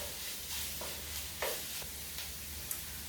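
Sausage browning in a pan, a steady close sizzle and crackle with occasional stirring scrapes and small pops throughout.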